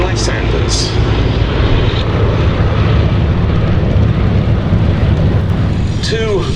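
A Westland Lysander flies at the Duxford airshow, its steady engine drone loud and continuous for the whole stretch with no pauses.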